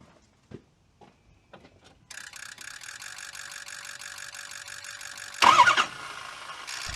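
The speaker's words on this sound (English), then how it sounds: "So you hit the starter real quick and it spins the belt" A pickup truck's starter is hit briefly and cranks the engine, spinning the belt. A steady whirring mechanical drone follows a few faint clicks and rises to a louder surge near the end.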